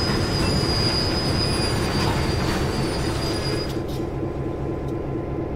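Freight train cars rolling steadily along the Clinchfield line through the West Virginia mountains in Train Sim World 2, a continuous loud rumble with sustained high wheel squeal that fades near the end.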